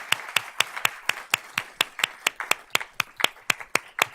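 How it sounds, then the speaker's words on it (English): At a school board of trustees meeting, people clap to honor a 4-H horse club student's awards, a run of sharp, evenly paced handclaps from a small group, close and distinct. "So let's give Aliza a round of applause."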